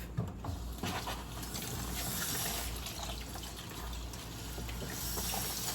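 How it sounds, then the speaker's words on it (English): Running tap water pours steadily over steak being rinsed in a kitchen sink, a continuous close splashing gush with shifting trickles as the meat is turned under the stream. "what I'm gonna do now is just rinse the meat off"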